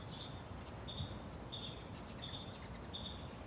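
Hummingbirds and other birds in a garden, heard as a faint repeated high chirp over a steady outdoor hiss, distant and quiet, with no talking.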